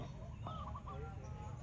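A short, faint chirping bird call rises briefly over a steady low background hum, with no one speaking.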